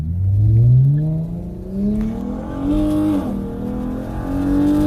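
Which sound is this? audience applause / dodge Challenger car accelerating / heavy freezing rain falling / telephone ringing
dodge Challenger car accelerating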